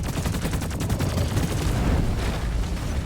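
Engineer turrets in Deep Rock Galactic fire nonstop, a dense, loud, unbroken roar of rapid gunfire mixed with low booms that lasts the whole stretch with no pauses.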